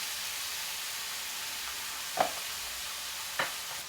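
Thin carne asada steak sizzling in a pan, a steady soft hiss with two brief clatters partway through, no voices.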